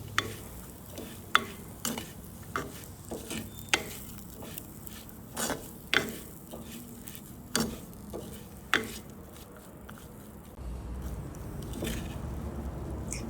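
Spoon stirring a spicy fried anchovy mixture with lime juice in a pan, giving sharp scraping clicks at an irregular rhythm, close and clear, with a steady low rumble underneath toward the end.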